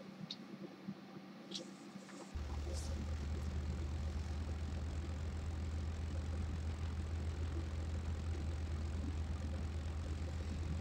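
An engine with both magnetos on, throttle set at 5% and its radiator fully open catches after about two seconds of quiet, then settles into a loud, steady, droning idle that runs without a break to the end.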